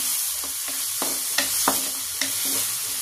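Shrimp paste (bagoong alamang) sautés in a pan with a steady close sizzle, punctuated by several sharp scraping and tapping strokes of a spatula as it is stirred.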